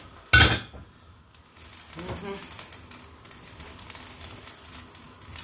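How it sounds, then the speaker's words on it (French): Metal lid closed onto a cooking pot: a single sharp, loud clank near the start, followed by softer scraping and clinking, with quiet talk and shuffling in the background. "je ferme la marmite"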